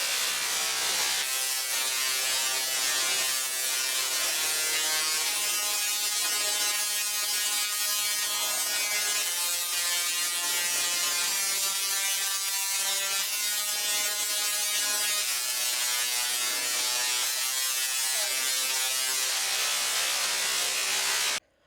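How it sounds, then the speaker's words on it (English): Tesla coils on a building roof above a ride queue crackle out Voltron's theme song as a buzzy, electric melody of sustained pitched tones, loud and continuous for about twenty seconds with no talking. "the Tesla coils on the roof of the building that play Voltron's theme song"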